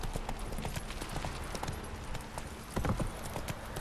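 Horse hooves in the video game The Witcher 3: Wild Hunt clip-clop in a quick, steady trot close by, a continuous patter of light knocks with a slightly heavier flurry near the end.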